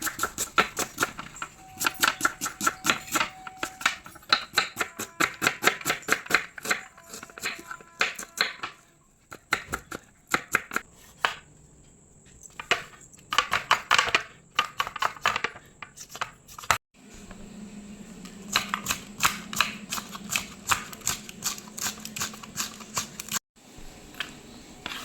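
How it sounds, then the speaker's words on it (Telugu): Onions and tomatoes are chopped finely with a knife in quick, sharp repeated taps on a board, coming in bursts with short pauses between them. "ఆనియన్స్ సన్నగా తరుక్కున్నాను, అలాగే టమాటా ముక్కలు సన్నగా తరుక్కున్నాను"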